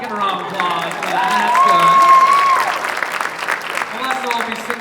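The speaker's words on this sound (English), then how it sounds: "Give her a round of applause for that." Steady applause fills a school idol singing contest after a student is introduced, with crowd noise and cheering throughout and a sustained voice or whistle rising above the clapping midway.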